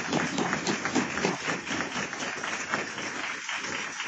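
An audience at a pharmaceutical industry workshop applauds a presenting company, moderate, fairly distant clapping that holds steady for a few seconds.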